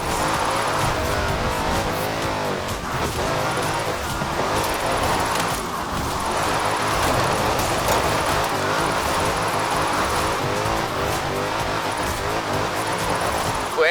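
A car drifting in Forza Horizon 4, with a steady, loud engine roar and a continuous squeal of tires sliding through turns. The sound fills the whole stretch without a break.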